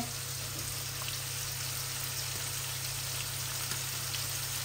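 Onions frying with spices in a pan, giving a steady, continuous close sizzle at moderate level with no talk.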